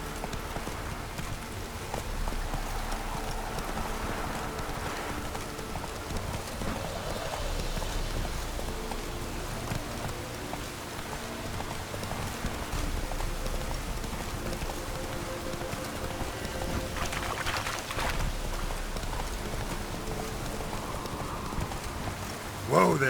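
The horse Roach trotting through rain in The Witcher 3, a steady clip-clop of hooves over constant rainfall, with occasional voice lines in between and a brief sharper sound at the end.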